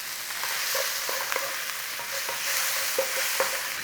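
Tomatoes and toasted ground cumin frying in a pan, with a continuous close sizzle and repeated light clicks and scrapes of stirring, no voices.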